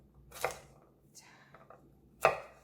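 A knife slices through chestnuts on a cutting board for a rice cake, producing a few sharp, separate chops with quiet pauses between them, close and distinct.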